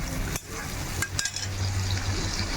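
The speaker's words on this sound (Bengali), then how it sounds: "এদিকে সাথে এটা আমার ভাজা হচ্ছে" Chilli chicken frying in a pan, a steady close sizzle with a few sharp clinks of utensil against metal near the start.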